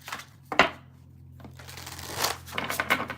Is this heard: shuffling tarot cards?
yes